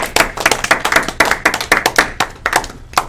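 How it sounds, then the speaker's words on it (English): A small audience claps during a team launch stream, a sparse, uneven round of individual hand claps with a few sharper taps standing out, close and fairly loud with no voices over it. "they deserve a massive round of applause"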